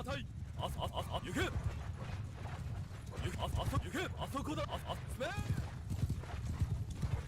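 Cavalry horses gallop in a Mount & Blade 2 Bannerlord battle, with dense hoofbeats and neighs over a constant din of combat and voices.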